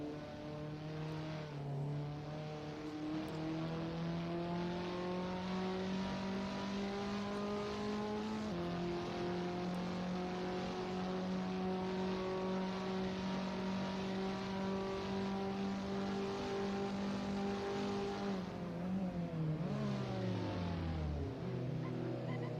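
Sim race cars at the Nürburgring drone steadily with a loud, close engine note that holds pitch for long stretches, shifts up a gear, then drops sharply as the car brakes and revs back up. No one talks over it.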